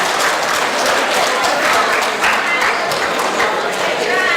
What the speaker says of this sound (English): You can actually clap for yourself now.